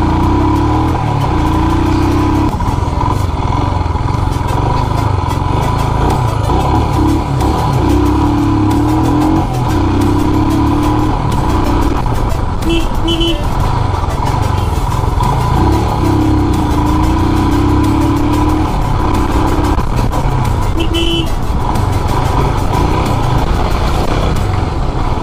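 A Royal Enfield Himalayan BS6 motorcycle engine drones steadily and loudly throughout as the rider travels over speed breakers, with a continuous mid-pitched hum and slight revving swells, no talking.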